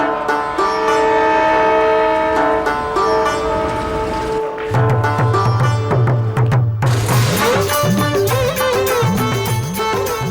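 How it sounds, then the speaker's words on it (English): The Darjeeling Mail intercity passenger train rumbles into a station in India with long horn blasts and a loud, continuous mechanical roar that shifts in pitch, heard up close with no talking. "the intercity Darjeeling Mail arrives from Calcutta"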